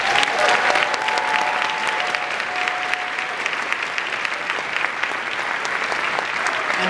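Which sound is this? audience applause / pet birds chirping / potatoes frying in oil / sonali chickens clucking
audience applause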